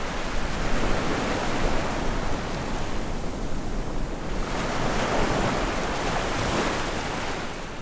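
Atlantic ocean waves breaking on the coast, a steady broad roar of surf that swells and recedes in soft surges, close and continuous with some wind noise and no voices.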